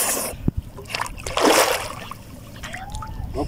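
A man wades into a Chalan Beel wetland to catch fish, with sharp splashes and sloshing water, one louder surge in the middle, close and moderately loud.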